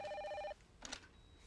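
A telephone bell rings loudly in one short burst and then stops, followed by quiet room sound and a brief soft rustle.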